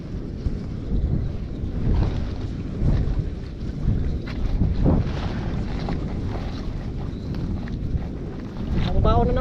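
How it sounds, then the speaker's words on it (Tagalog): Strong wind buffets the microphone in a steady, rough roar, with no clear voices. "Medyo malakas po yung hangin."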